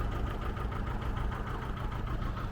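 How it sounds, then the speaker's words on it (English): A vehicle engine left idling, a steady low rumbling drone with a faint knocking pulse, close and continuous without any talk. "Someone's left the engine running."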